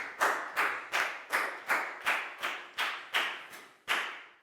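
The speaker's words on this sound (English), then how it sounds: "a big round of applause for Bangpon" A round of applause in a children's English class comes as about ten sharp, evenly spaced claps at a steady beat, close and loud, each with a short decay and no talk.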